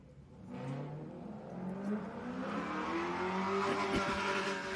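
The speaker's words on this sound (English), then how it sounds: "hearing that the 888 car coming back in" A race car engine revs up and passes during an enduro race, its pitch rising and shifting as it draws nearer, growing louder toward the end with no talking.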